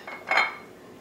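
A salad bowl is set down and handled in a home kitchen before making zucchini noodles, giving one short ceramic clink followed by a brighter, ringing knock that fades quickly.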